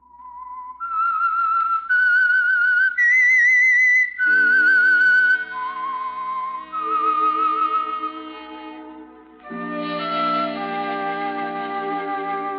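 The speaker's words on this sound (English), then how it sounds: "That whistle is your signal for the Signal Oil program, The Whistler." Someone whistles the theme tune of The Whistler radio mystery program, a clear, eerie melody of long sustained notes, joined partway through by orchestral music playing underneath, with no talking.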